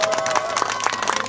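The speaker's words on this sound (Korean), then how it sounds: "뜨거운 박수 부탁드립니다" Brief audience applause at a student speech event in a hall, steady clapping mixed with crowd noise and voices throughout.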